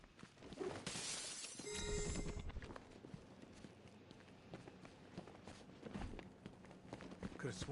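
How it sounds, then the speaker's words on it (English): Glass shattering in the video game Batman Arkham Knight, a bright crash that rings out early, followed by footstep-like thuds and game ambience. "Could have sworn I heard broken glass."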